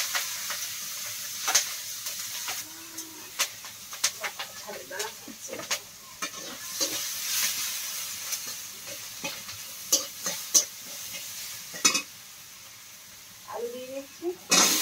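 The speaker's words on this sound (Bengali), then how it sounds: "কড়াই দিয়ে দিচ্ছি পেঁয়াজ কাঁচা লঙ্কা রসুন কুচি" Onion, green chilli and chopped garlic frying and being stirred in a wok, a steady low sizzle broken by sharp scraping and clinking strokes at an irregular pace, with occasional speech nearby.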